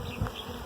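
Bees buzzing around a hive, a dense close drone of many insects holding steady for under a second.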